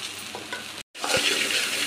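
Black chana fry in a pan with a dense, even sizzle, cut off by a momentary gap and then resuming, loud and close with a low stirring knock.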